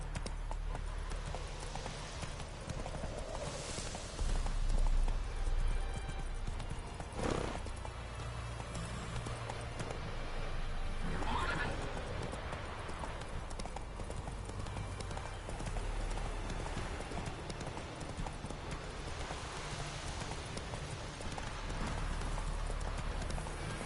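Witcher horse Roach galloping in the video game, a continuous rhythmic clip-clop of hooves at a run with a brief neigh or snort, close and steady over a low ambient rumble.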